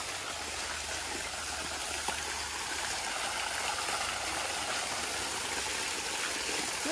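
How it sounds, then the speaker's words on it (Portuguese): Hot thermal spring water flows at a hotel's thermal pools, making a steady, soft rushing and trickling sound with no voices. "Água tá quente, quente. É água termal."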